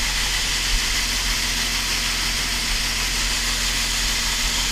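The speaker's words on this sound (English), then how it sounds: "See how good our Hutchinson auger is." Hutchinson grain auger unloading dry corn, a constant, dense mechanical rush and whir, steady and loud throughout, with no talking.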